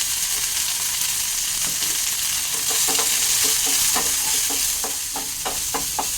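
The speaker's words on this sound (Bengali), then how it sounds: "পুদিনা পাতাটা কিন্তু আমার বেশ সুন্দর ভাজা হয়ে গেছে" Mint leaves frying with a pinch of turmeric in a pan give a steady, close sizzle, while a spoon scrapes and taps against the pan in quickening strokes. No one speaks.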